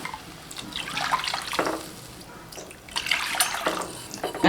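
Water pours into a cooking pan while jackfruit kesari is made, three cups of water added per cup of semolina; a steady splashing stream near the microphone that swells, eases off, then surges again, with no talk.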